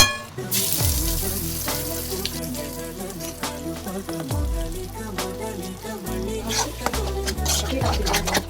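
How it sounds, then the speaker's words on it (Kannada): Curry leaves dropped into hot oil for tempering a raw tomato chutney, an immediate loud crackling sizzle that settles into steady frying hiss with occasional pops, close and continuous. "ಇವಾಗ ಕರಿಬೇವಿನ ಸೊಪ್ಪು ಹಾಕ್ತೀನಿ"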